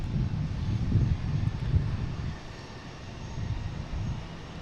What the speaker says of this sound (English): It's an A320 Neo